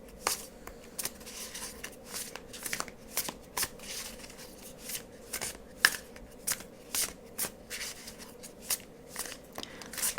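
Tarot cards are handled and pulled from their packs in a run of close, crisp rustles and shuffling flicks, with a faint hum behind them and no talking.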